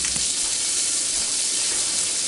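An egg frying in a pan, heard close up as a steady, even sizzling hiss that holds without a break, with no voices.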